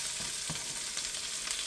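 Mushrooms and onions sizzle steadily in a hot pan for Salisbury steak, with a few soft scrapes of stirring breaking through the close, continuous frying hiss.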